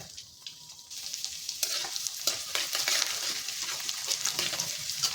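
Cinnamon stick, a spoon of cumin seeds, a dried red chilli and finely chopped garlic sizzle steadily in hot oil over a medium gas flame for methi nu shaak, a close, continuous crackling hiss that grows denser after the first second.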